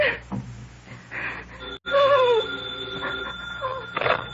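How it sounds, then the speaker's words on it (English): A telephone rings in an old 1950 NBC radio crime drama, a shrill bell tone that comes back in repeated bursts, loud and close, alongside a woman's startled gasp and dramatic background music. "The phone kept ringing. And ringing."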